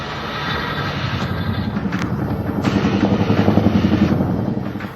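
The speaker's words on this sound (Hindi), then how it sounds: "मुश्किल इलाकों में मिशन पर चिनूक" A Chinook helicopter drones steadily over Ladakh with a rhythmic rotor chop, growing slightly louder toward the end, with no voices.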